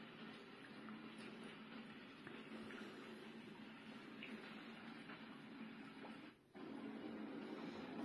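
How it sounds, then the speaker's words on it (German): Recorded babbling brook played from a small dinosaur egg night light projector speaker, a quiet, steady, somewhat washed-out watery hiss and trickle that continues throughout with a brief dip near the end. "Und natürlich das Bachplätschern auch noch."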